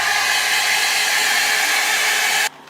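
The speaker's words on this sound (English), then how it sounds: "you go in with your blow dryer and dry it" A hair dryer blows continuously and loudly while drying loose deep wave hair, a steady whooshing hum that cuts off abruptly near the end.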